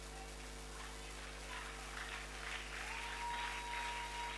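Faint applause rises from a congregation in a church service, distant and thin beneath a steady electrical hum, growing slightly in the second half.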